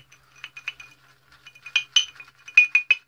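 A shaving brush being loaded with soap clinks repeatedly against a hard bowl, bright sharp taps in uneven clusters, close and clear with no voices.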